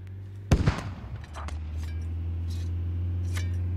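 A sharp, loud blast opens with a short burst of rattling crackle in the Squad military shooter as an enemy truck is destroyed, then a few faint distant pops over a steady low engine drone.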